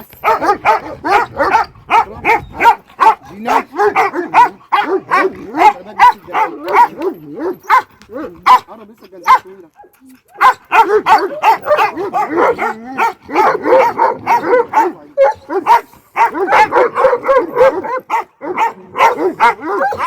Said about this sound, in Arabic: وعندي كلب اهو